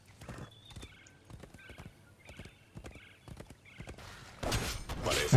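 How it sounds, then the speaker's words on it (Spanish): A horse mount gallops in the Heroes of the Storm video game, a quick run of clip-clop hoofbeats with a neigh, followed by a louder burst of game action at the end. "a ver si corre mi caballo"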